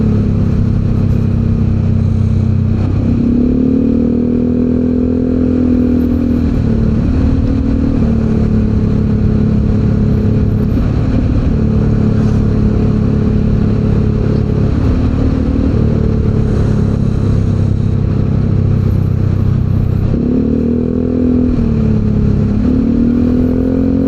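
A Harley-Davidson motorcycle on the road gives a loud, continuous low engine rumble that rises and falls with revving, close by and alone.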